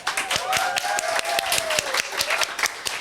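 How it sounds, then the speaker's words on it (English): Audience applause for the poet Emily at an NYU poetry reading: scattered, fairly sparse claps ringing out over a few seconds, with a thin whistling tone drifting above them. "Can we get a round of applause for Emily?"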